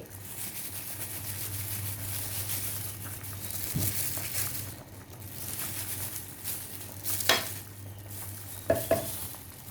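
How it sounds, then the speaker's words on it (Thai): Jackfruit curry with acacia shoots and betel leaves simmers with a low bubbling hiss, a steady hum beneath, and occasional utensil scrapes and clinks against the pot as it is stirred. "คนกลับไปกลับมานะจ๊ะ"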